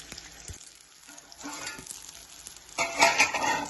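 Pandugappa fish pieces frying in a pan give a soft sizzle with light stirring scrapes, building to a louder crackling burst toward the end of the short stretch.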